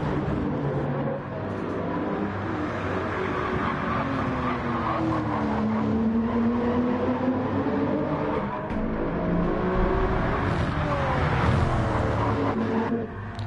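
Gr.3 race cars in Gran Turismo 7 roar down the main straight at a Spanish circuit, engines droning loud and continuous with rising and falling pitch sweeps as several cars pass close by.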